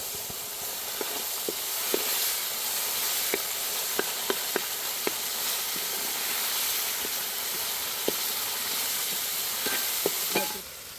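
Food sizzles steadily in a hot pan on medium heat as red amaranth leaves and onions are sautéed, with occasional scraping and clinks of a spoon stirring, close and continuous.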